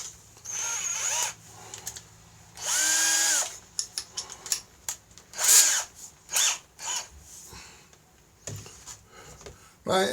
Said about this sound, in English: Is drill out the screw head.